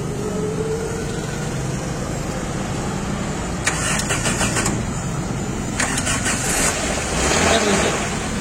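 A car engine is started in neutral at a driving school in Sylhet. It cranks in two short bursts over a steady engine drone and background noise.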